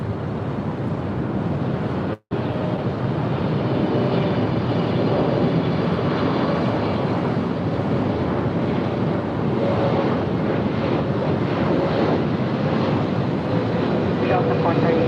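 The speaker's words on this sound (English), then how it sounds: "EVA Air Flight 12 coming in from Taipei. It's a 777-300ER now in short funnel for 24 right." An EVA Air Boeing 777-300ER, arriving from Taipei on short final for runway 24 right at Los Angeles International Airport, produces a loud, sustained engine roar with heavy wind buffeting, broken by one brief dropout.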